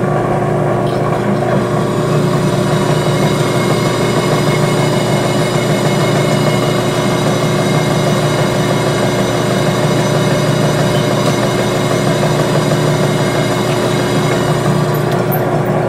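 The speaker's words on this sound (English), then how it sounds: "We're going to spin it counterclockwise first." An ignition distributor spins counterclockwise on a test rig, hooked to a test wire harness. A loud, constant mechanical whir holds evenly with no pauses.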